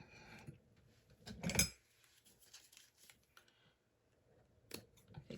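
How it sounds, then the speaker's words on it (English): A quick snip of scissors cutting through excess ribbon, a short crisp burst standing out against quiet handling sounds. "Scissors, take off that excess."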